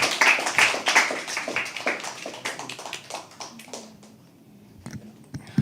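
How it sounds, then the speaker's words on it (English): An audience at a live poetry open mic claps in a burst that thins out into scattered claps and then stops. "Keep clapping till he comes on stage."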